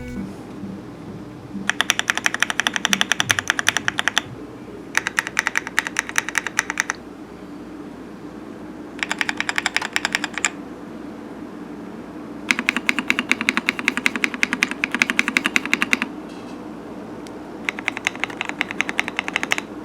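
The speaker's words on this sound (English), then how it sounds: "I was actually shocked at how well the stabilizers are lubed in this keyboard" Rapid typing on an Attack Shark Ajazz AK820 budget mechanical keyboard with factory-lubed stabilizers comes in several bursts of quick, even keystrokes separated by short pauses, heard close and alone.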